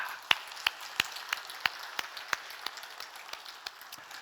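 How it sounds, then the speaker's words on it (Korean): A small group in a Korean church service claps in unison at a sermon's prompt, sharp regular beats roughly three per second, fairly close, with sparser looser claps trailing off toward the end. "박수 한번 하십시다."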